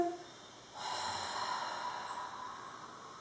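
A child's big breath is pushed out hard through the nose during a kids' yoga breathing exercise, a single sustained snort-like exhale lasting a couple of seconds, close and fairly loud.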